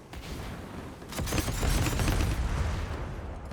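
Drogoz's salvo rockets in the Paladins video game fire as a dense stream of booming launches and explosions that swell louder partway through amid busy combat noise.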